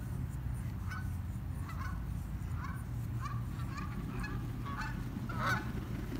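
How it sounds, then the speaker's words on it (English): A flock of geese honks repeatedly in scattered, excited bursts, the calls coming from some distance over a steady low rumble of background noise. "A bunch of geese here going crazy."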